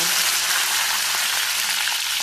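Green chillies and fresh coriander frying in hot oil in a pan, a loud steady sizzle that runs unbroken and close throughout.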